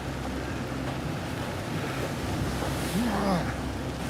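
Incoming tide surging against a slippery rocky shoreline in Scotland, a steady broadband wash of waves with wind buffeting the microphone throughout, and a brief voice-like sound near the end.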